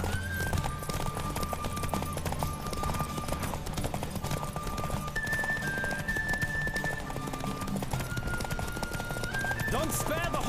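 Fast, continuous hoofbeats drum under a wavering high whistle, with a horse's whinny rising near the end; voices may mingle faintly in the mix.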